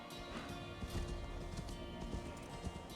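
Horse hooves clip-clop at a steady trot in the video game Assassin's Creed Discovery Tour: Viking Age, blending into a dense, continuous wash of game ambience and music with no talking.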